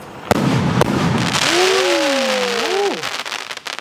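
An Avenger 9-in-1 Deepavali firecracker bursts with sharp cracks, then a whistling rocket tone sweeps up and down before fading into crackle; loud, outdoors, with no talk.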